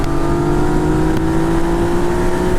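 Yamaha FZ09 (MT-09) motorcycle pulling hard on a test ride, a loud steady engine drone with strong low rumble and a sustained tone mixed with wind, continuous throughout.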